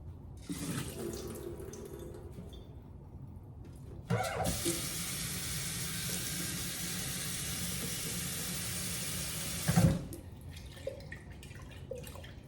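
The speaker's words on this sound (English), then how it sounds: "Rinse the seeds." Sprouting seeds in a jar rinsed under a kitchen tap: a few seconds of dripping and handling, then a loud steady rush of running water for about six seconds that stops abruptly, followed by quieter trickling and sloshing.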